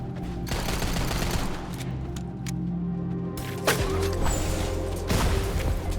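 Gunfire in the shooter video game Wild Assault while the player sprint-jumps: a loud run of rapid shots with punchy thuds and crashes mixed into dense game sound.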